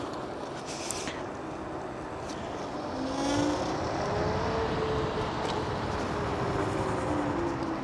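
A Kaabo Wolf King GT electric scooter accelerating on throttle, a steady whirring motor whine rising in pitch over wind and road rumble, continuous and fairly loud throughout.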